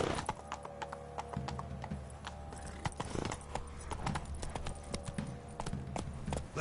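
Roach, the horse in The Witcher 3, gallops with rapid, steady hoofbeats clip-clopping close and clear, rhythmic thuds repeating throughout over quiet game ambience.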